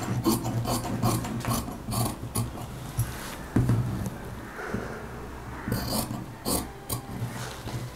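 Scissors snip and rasp through blouse fabric in a series of short, irregular cuts close by, with soft rubbing and shuffling of cloth between the cuts and no talking.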